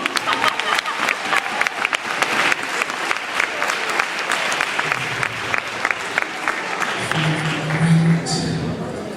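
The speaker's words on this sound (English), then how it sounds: "Nice round of applause, ladies and gentlemen." A high school audience claps for a hypnotist's show in a school hall, a loud, choppy burst of applause that carries on for several seconds while someone talks over it.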